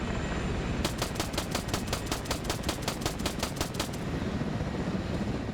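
Machine gun fire in a military video game: one fast sustained burst of about fifteen evenly spaced rounds lasting roughly three seconds, crisp and fairly close over a steady background rumble.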